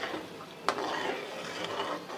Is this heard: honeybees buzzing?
no